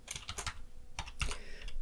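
Quick, light typing on a computer keyboard while writing Flutter code, an irregular run of close, soft key clicks at a quiet level.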